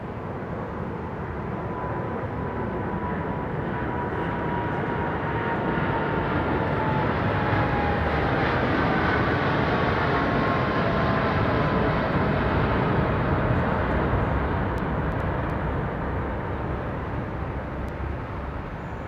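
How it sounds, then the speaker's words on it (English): A Vietnam Airlines Boeing 787 Dreamliner rolls down the runway on its takeoff run at London Heathrow, a steady, loud broadband engine roar that holds for the whole stretch with a faint whining tone drifting across it. "It's a long run for this beautiful Vietnam Dreamliner"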